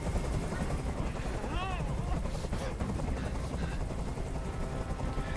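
A helicopter drones steadily in the video game Detroit: Become Human, with a continuous rotor rumble under game dialogue and short bursts of other action sounds.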